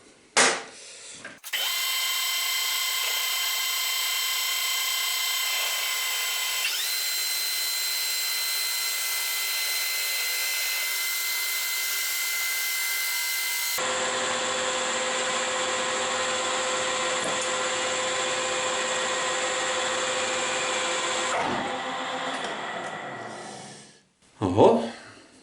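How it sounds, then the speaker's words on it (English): A lathe center-drills the end of a steel bucket pin. The whine runs steady for a long stretch and shifts pitch partway through, then drops at the end, with a few short mechanical knocks at the start and finish. "So I will center drill and then install the live center."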